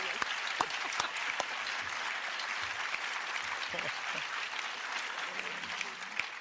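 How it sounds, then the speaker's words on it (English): A round of applause at an awards ceremony, steady crowd clapping with a few sharper individual claps standing out, moderately quiet and continuous, with faint voices mixed in. "And just a big round of applause"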